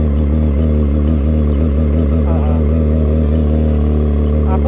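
A motorcycle engine on a ride toward Bandung runs loud and close, a steady droning rumble with slight revving swells throughout.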